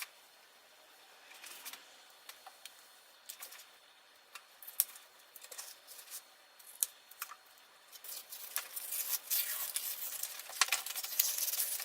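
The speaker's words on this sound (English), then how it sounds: "My thought here is to just cut through the paper and not cut the veneer." Paper backing on a wood veneer sheet being cut through, giving faint, crisp scratching and ticking strokes in irregular bursts that grow denser and slightly louder toward the end, heard alone in a quiet room.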